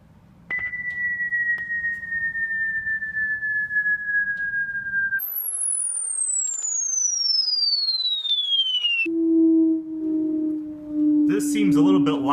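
Test tones play through a Harman Kardon Aura Studio speaker, with a series of pure gliding sine sweeps stepping down in pitch, clean and sustained, ending in a low bass tone with some distortion.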